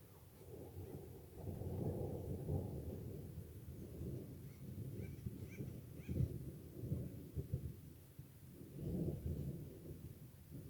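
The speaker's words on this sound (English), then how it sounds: "I was hoping there'd be more thunder." Distant thunder from a Saturday afternoon thunderstorm rolls low and steady for several seconds, with a second swell of rumble near the end, outdoors and alone without talk.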